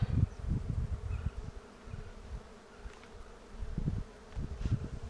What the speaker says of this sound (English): And there's a bunch of bees.